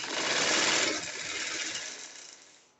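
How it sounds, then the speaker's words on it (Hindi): A sewing machine stitches piping onto fabric for a poncha trouser hem with a half-inch seam allowance, its fast steady whir running close for about two seconds before slowing and fading out. "मैं ऐसे ही इसको सिलाई लगाते जाऊँगी"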